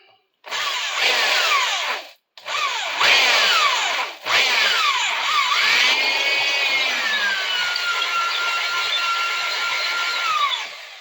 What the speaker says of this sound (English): This is not the recommended use for a drill bit.